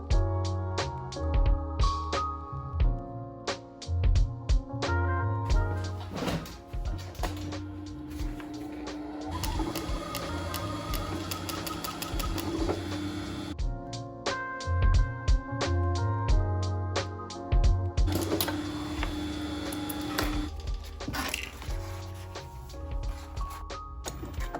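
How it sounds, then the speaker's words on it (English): A leather skiving machine thins the edges of leather skin for a BMW E39 door panel and armrest repair, a steady mechanical whir with repeated sharp clicks and rattles in bursts, close and continuous, with no talking. "This is a skiving machine, and it reduces the thickness of the skin at the edges"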